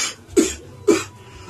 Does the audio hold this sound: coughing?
yes